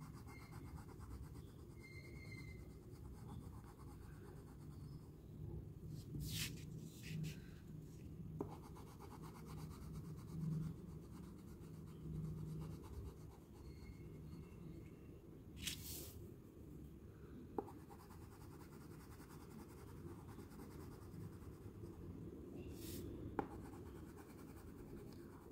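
Crayon or pencil coloring inside black outlines on paper, a soft continuous scratchy rubbing in close, quiet strokes with a few faint taps.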